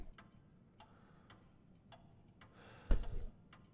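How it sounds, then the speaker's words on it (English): Clock in a Louisiana bayou house in Resident Evil 7, faint steady ticks roughly every half-second over a quiet background, broken briefly by a louder thump. "No, that's a clock ticking."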